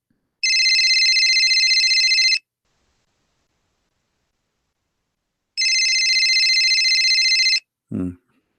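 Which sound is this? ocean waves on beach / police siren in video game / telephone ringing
telephone ringing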